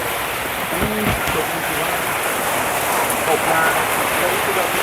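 Steady rain falls across an open market area in Phatthalung, a dense even hiss running throughout with a few low knocks and faint voices far off.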